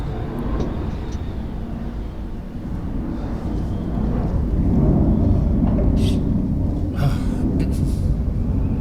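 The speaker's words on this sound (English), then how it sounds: "you can hear the plane in the background" A low, broad roar of a plane passing overhead, swelling gradually and then easing off, distant and steady with no talking.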